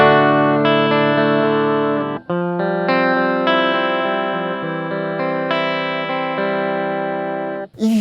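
Electric guitar played through a Boss GT-1 full-range clean amp model with plate reverb, sustained clean chords ringing out loud and bright, changing every second or so with two brief gaps.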